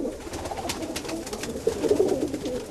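Rock pigeons in a city cooing softly over steady background noise, low, muffled calls rising slightly toward the end, moderately distant.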